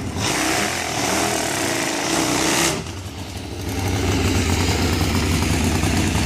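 A Harley-Davidson-based 45-degree V-twin racing motorcycle with a Hawaii Racing engine from North Carolina blasts loudly on track, spinning the wet rear tyre; a raspy, constant roar drops briefly, then surges back at full volume, with no talk.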